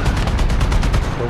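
A rapid, steady burst of machine gun fire in a War Thunder ground battle, about a dozen evenly spaced loud shots rattling close by with no pause.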